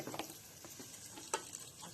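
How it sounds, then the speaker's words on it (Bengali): Capsicum and onion frying in a pan during a rooftop family feast, heard as a faint sizzle with scattered stirring scrapes and clicks, one sharper tap near the end, and no talk. "চলছে এখানে ভাজা ভাজি সব, ক্যাপসিকাম পেঁয়াজ পেঁয়াজ সমস্ত ভাজা।"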